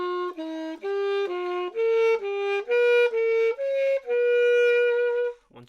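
A single instrument plays a rising sequence of paired notes, about a dozen even steps ending on a held tone, soft and close.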